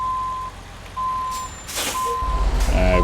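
A Western Star 49X truck in American Truck Simulator sounds steady reversing beeps while backing up, then lets out a sharp hiss of air brakes over a low engine rumble.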